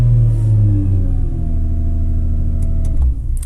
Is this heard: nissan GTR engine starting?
yes